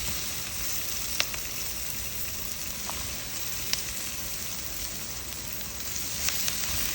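Broccoli sizzles steadily as it drops into a hot pan of caramelized onions, a dense, even crackling hiss with a few brief pops scattered throughout, close and unbroken, with no talking.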